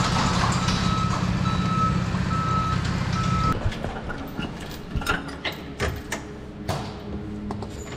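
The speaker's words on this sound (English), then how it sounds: "the truck doesn't make beep sounds when it backs up" A truck's reversing alarm beeps steadily and loudly over engine rumble, then stops abruptly, leaving clanks and thuds of nearby metal work.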